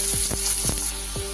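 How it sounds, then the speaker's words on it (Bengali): Potatoes fry in hot oil in a wok, giving a close, bright, continuous sizzle broken by a few soft knocks from stirring. "প্রথমে আমি আলুগুলো লাল লাল করে ভেজে নেব।"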